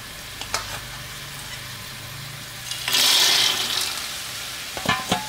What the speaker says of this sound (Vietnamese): Rồi bây giờ mình sẽ trộn đều lên, trộn cho cái phần gia vị đó nó thấm nuôi nha.